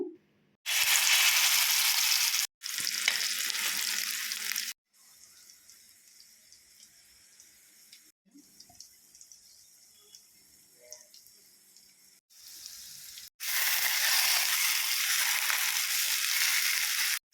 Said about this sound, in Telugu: ఇప్పుడు పేస్ట్ అంతా ఈ బాండీలో వేసేద్దాము